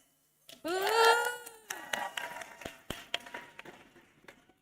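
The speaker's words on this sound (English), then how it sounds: "putting your hands together to clap as enthusiastically as possible and give us a cheer" A brief cheer rises at an awards ceremony, then scattered hand clapping from a group continues, uneven and thinning out over a few seconds.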